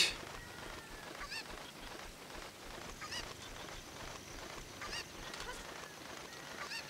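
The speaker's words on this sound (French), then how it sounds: "Je veux prendre la poule." A chicken in Zelda: Ocarina of Time on the N64 squawks and clucks in a loud, steady run of busy fowl noise that never drops away, with no speech over it.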